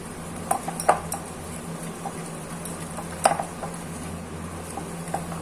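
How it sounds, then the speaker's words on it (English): Eggless red velvet cake batter with oil whisked in a bowl, light rhythmic clinks and taps of the whisk against the bowl, close and fairly quiet, with a few sharper knocks. "2 tablespoon oil, again we will whisk it well"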